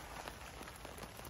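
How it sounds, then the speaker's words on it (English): Rain patters on a tarp shelter pitched over a pebble beach in Scotland, a faint, dense, even hiss of drops with soft irregular taps and no speech. "Just to give you an idea of how we've been surviving in this bloody rain."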